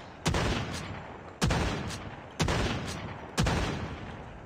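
Four loud single shots from a Carabina MK2 rifle in Call of Duty Mobile, each a sharp crack followed by a decaying echo, spaced about one second apart.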